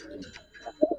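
Giribaz silver pigeons give a short, soft coo, with a few low murmured notes followed by two slightly stronger pulses close by.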